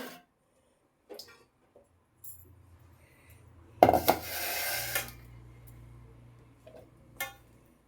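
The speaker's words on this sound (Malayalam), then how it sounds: "അപ്പോൾ ഇത് ഞാൻ ഒരു ജാറിലേക്ക് ഇടുകയാണ്" Deseeded jackfruit pieces dropped into a grinder jar, with light knocks and taps followed by a louder clattering burst and a brief rustle, then a couple of soft clinks in a quiet kitchen.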